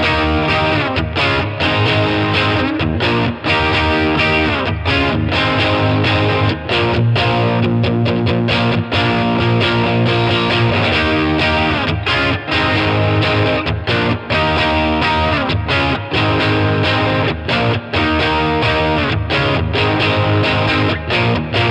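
An electric guitar played through a Line 6 Catalyst amp on its crunch channel at about 75% gain gives driven, distorted rock chords and riffs. They sound loud and close, with rhythmic strums and short gaps, and no talking.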